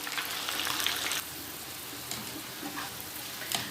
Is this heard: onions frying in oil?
yes